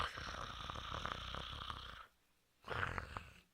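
A person imitating snoring, two long raspy drawn-out snores separated by a short silent pause.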